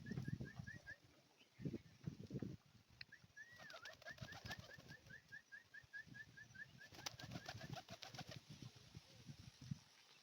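Pigeons being hand-fed peanuts coo softly and flutter their wings nearby, low throaty calls and brief flapping bursts over steady outdoor background noise, with a faint tonal chirp running through.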